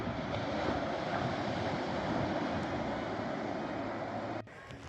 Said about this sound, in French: Magnifique plage.